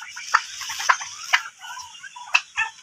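Heavy turkey cocks weighing around 8 kilograms give short, sharp gobbling calls a few times at close range, with brief gaps of quiet between them.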